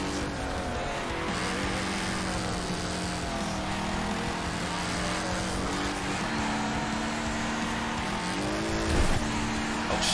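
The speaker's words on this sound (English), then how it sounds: "I can hear his engine, like, right behind me." Race car engines drone continuously in the Wreckfest video game, a loud, rasping roar with shifting pitch as the cars accelerate and change gear, close behind and sustained throughout.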